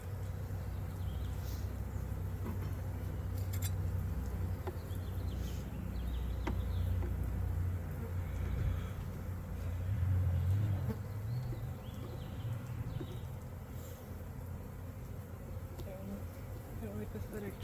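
Honeybees buzz around an open, overwintered hive during an outdoor inspection: a dense, steady drone of many wings throughout, with individual bees passing close now and then.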